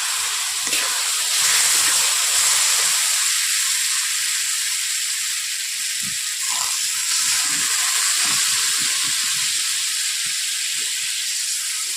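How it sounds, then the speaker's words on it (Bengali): Fish curry broth with potatoes simmering in a pan, a steady loud sizzling hiss with bubbling throughout, no voices. "ঝোলের ফুট চলে এসছে"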